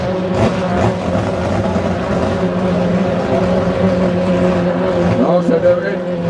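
A 2.5 litre race car rounds the east turn of a track during a heat, its engine droning loud and steady with tonal harmonics, under fast commentary from an announcer.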